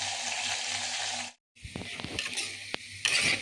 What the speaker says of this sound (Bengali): ঢাকা দিয়ে আমি আলুগুলোকে ভেজে নেব খুব সুন্দর করে